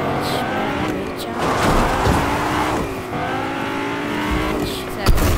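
A car's engine revs and drones in the Fortnite video game, rising and falling as it drives, with a player talking over the steady motor.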